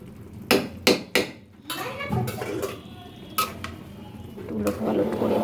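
Biryani being stirred and turned in a metal pot, with sharp clanks and scrapes of a spoon against the rim in bursts, then softer shuffling of the rice, fairly close.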